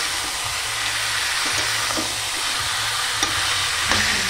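Mourola fish with tomatoes and salt fry in a pan, a steady close sizzle and hiss with occasional faint stirring clicks, no talking.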